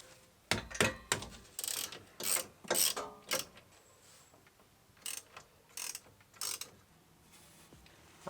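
A hand ratchet clicks in short repeated bursts while loosening the lower suspension bolts on a BMW E36 during a coilover install, each burst close and sharp with brief pauses between strokes.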